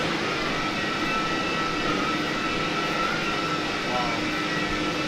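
An Airbus A330-300 jet engine in X-Plane roars steadily from outside the aircraft, a loud, continuous broadband whine and rush with a faint tonal hum.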